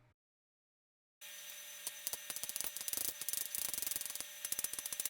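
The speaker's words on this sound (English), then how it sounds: "I just use my mixing spoon to settle the concrete and remove bubbles from the top surface" Scraping and tapping of a mixing spoon settling wet concrete in a hard mould, with rapid irregular clicks and rubbing strokes after a brief silence.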